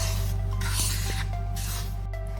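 Dumpling dough for Ukrainian dumplings being stirred and mixed in a bowl, giving soft wet squishing and rubbing strokes over a steady low hum, close and fairly quiet, with no talking.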